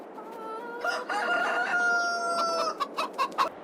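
Chickens and roosters on a farm in the video game Farming Simulator 22: overlapping clucks and a drawn-out crow close up, ending in a run of short clucks.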